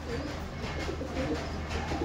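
Green pigeons in a loft in Beldanga, Murshidabad, giving soft, throaty coos that repeat close by over a busy murmur of other birds.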